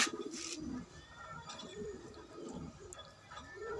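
Pigeons coo nearby in soft, repeated throaty rolls, several low murmuring calls spread across a few seconds over a light background hiss.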